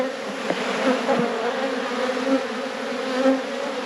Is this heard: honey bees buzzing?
yes